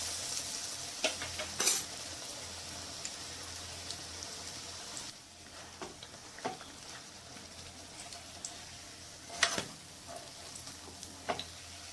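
Pumpkin leaves dipped in gram flour batter deep frying in hot oil, giving a soft, continuous bubbling sizzle close by with occasional sharper crackles and clinks, and no voices.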